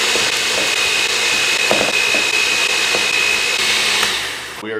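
A blender whirs steadily at close range, mixing chipotle seasoning with salt, a loud continuous motor drone that winds down at the end.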